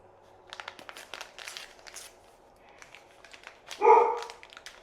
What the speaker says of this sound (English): I'm sure he's barking at them for going to the neighbors too.